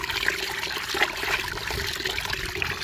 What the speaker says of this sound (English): I am going to fill that container with water.